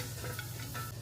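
Onion hitting a hot pan for a soup, giving a steady, close sizzle with a low hum underneath and no voices, over about a second.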